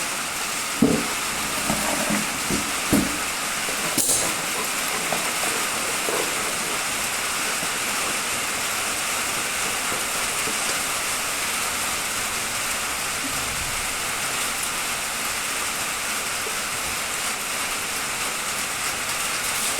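Casting material pours into a mold for a roof piece, a steady rushing, water-like flow that runs continuously for about twenty seconds, with a few faint knocks near the start.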